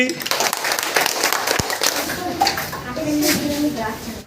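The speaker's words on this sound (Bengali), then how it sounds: "গোলাপির জন্য হাততালি" Children clap for the winning team during a classroom activity-based learning game, a burst of scattered applause mixed with kids' chatter and voices throughout.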